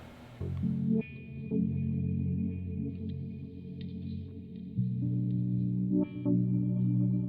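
A Pedalbrainz Left Brain effects pedal set to its filter modifier processes a looped bass-heavy phrase, with sustained tones shifting in sweeping filtered waves and a few brief glitchy accents, moderately quiet and without any talking.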